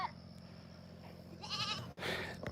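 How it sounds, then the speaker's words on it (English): Several goats on a homestead bleat loudly and close by in overlapping calls, with a sharp break before another burst, while they clamor for treats. "the goats are noisy right now. They all want me to bring them treats"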